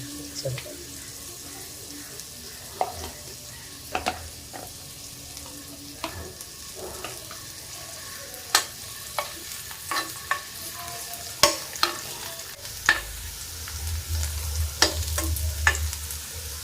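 Small onions frying in ghee and coconut oil in a pan for a country-style cumin chicken roast, with a low steady sizzle broken by sharp scraping clicks of a stirring spoon, close and moderately loud, a soft low rumble near the end.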